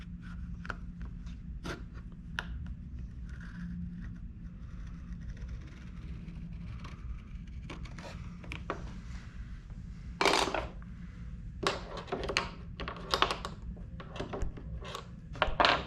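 A blade cuts a splitboard climbing skin along a marked line, giving a series of short, close scratchy slicing strokes at irregular intervals over a low steady background hum, denser toward the end.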